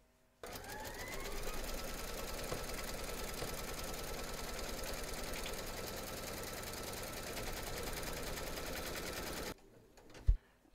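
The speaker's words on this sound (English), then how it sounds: "We're now going to pop our hoop into our machine and stitch round number 12" An embroidery machine stitches round number 12 in the hoop, securing backing fabric for an in-the-hoop teddy and unicorn bag, a steady dense mechanical whirr running for about nine seconds before stopping, followed by a single sharp knock.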